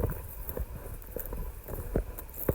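Hooves of three horses being led by hand through dry wilderness knock in an uneven, fairly soft clip-clop, several scattered strikes over a couple of seconds.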